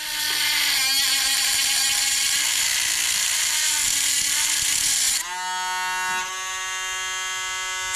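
A high-pitched power tool whines steadily as it cuts through a rear wheel bearing retaining ring on a Volvo 240, loud and close, its pitch dropping and shifting near the end as the load changes.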